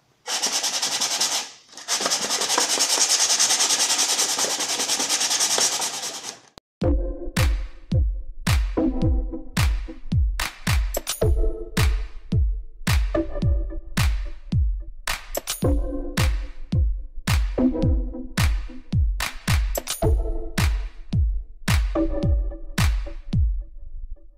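A steady hiss of sanding sealed MDF, then a long run of rhythmic back-and-forth rubbing strokes on the MDF board, close and loud, no voices.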